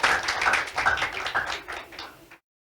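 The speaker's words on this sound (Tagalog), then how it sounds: "Pumalakpak nga tayo para sa Panginoon" A church congregation claps for the Lord at a sermon, a dense burst of many hands slapping together in quick, uneven rhythm that carries for a couple of seconds and then stops abruptly.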